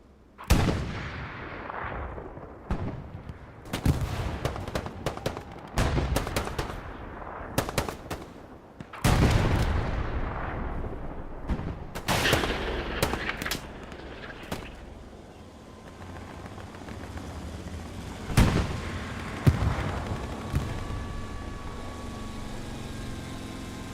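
Repeated T-34 tank cannon blasts and heavy gunfire at night in Hell Let Loose, sharp loud booms spaced irregularly over rumbling combat noise, some shots close and others distant.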